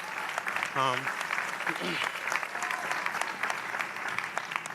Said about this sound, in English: The principal here deserves a round of applause for everything that he's doing.